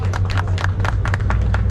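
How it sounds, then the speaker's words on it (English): Crowd applause aboard a pirate ship in Tunisia, a steady patter of many hands clapping close by over a low engine drone, with no talk heard. "Yalla, big applause everybody."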